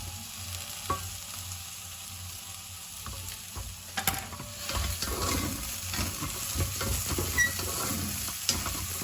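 Steady soft sizzling of vegetables, including carrot, sautéing in a pot, with occasional stirring and light clinks, close and fairly quiet throughout.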